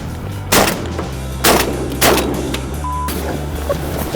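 Shotgun shots fired at ducks during a hunt, several loud sharp blasts spaced about a second apart over a steady outdoor background rumble.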